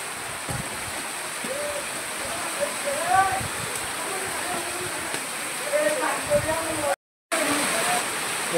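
Water streams down the stone steps of Sarasgad fort, a continuous rushing wash with voices talking over it and a brief dropout near the end.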